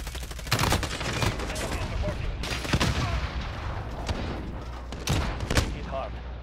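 Bursts of gunfire from a Call of Duty match, sharp repeated shots and heavy volleys recurring throughout with loud impacts, a voice speaking briefly under the firing.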